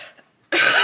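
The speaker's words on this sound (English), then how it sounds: "A cough sounds far worse than it is" A single sharp, loud cough bursts out close by after a moment of near quiet, preceded by faint breathy sounds.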